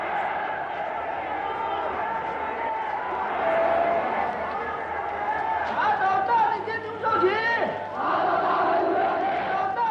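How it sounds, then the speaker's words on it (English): A vengeful crowd roars in a stadium during a mass public denunciation, a dense, sustained wall of many shouting voices with surging swells and scattered yells, loud and continuous throughout. "stadiums that shake with the roars of the vengeful crowd"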